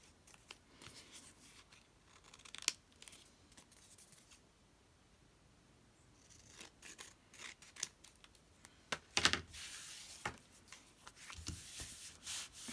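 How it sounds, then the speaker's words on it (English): Scissors trimming paper for a craft project, a run of close, crisp snips and rustling paper handling in uneven bursts, growing busier toward the end, with no talking. "Now I'm trimming it off just so I can see better if I want to do anything else."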